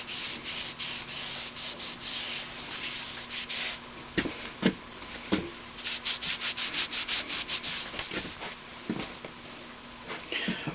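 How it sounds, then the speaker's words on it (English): A cloth dampened with thinner rubs excess Permatex sealer off an old McCormick-Deering engine, close, rhythmic scrubbing strokes in bursts, some quick and repeated, with no talk. "A little thinner on a cloth makes removing that excess Permatex quite easy."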